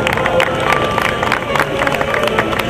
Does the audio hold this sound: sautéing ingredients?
no